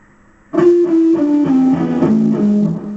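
An electric guitar plays a descending blues lick from a guitar solo, plucked notes stepping down steadily over a few seconds, clear and close.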